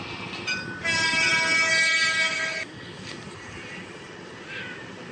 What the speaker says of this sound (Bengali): কথা কইতে না কইতে আবার ট্রেন